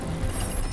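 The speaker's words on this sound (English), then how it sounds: "Crossbow bolt." Mechanical ratcheting clatter of a crossbow bolt being loaded in Call of Duty: Black Ops Cold War, a brief dense burst of gear-like clicks, loud and close with no speech.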